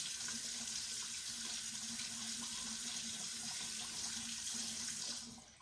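Steady running tap water splashes into a sink for several seconds as a face is wetted, a constant close hiss that fades out at the end.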